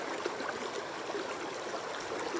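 Fast water of Bemis Stream rushes in a steady, dense wash close by, a continuous broadband hiss and gurgle with no pauses and no voices.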